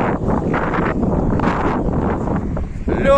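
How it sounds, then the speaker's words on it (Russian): Strong wind buffets the microphone in heavy, uneven gusts, a loud rumbling roar that swells and dips for a few seconds. "Ох, и ветер сумасшедший."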